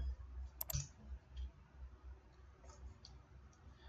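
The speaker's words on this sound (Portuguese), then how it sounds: "Então dou um clique fora." A couple of sharp, quiet mouse clicks come close together in a computer software session, followed by a faint low hum and very soft room noise.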